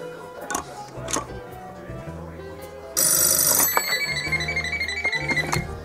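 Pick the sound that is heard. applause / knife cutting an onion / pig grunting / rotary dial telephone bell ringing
rotary dial telephone bell ringing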